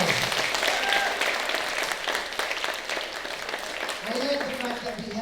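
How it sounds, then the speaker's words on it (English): Pageant audience applauding the finalists at a Ms Australia NZ Oceania beauty contest, dense continuous clapping throughout, with a voice briefly surfacing near the end. "Again, let's give them a round of applause."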